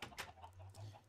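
Minecraft chickens cluck softly in a short burst of low, quiet clucks against faint background noise.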